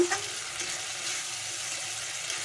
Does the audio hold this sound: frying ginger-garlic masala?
yes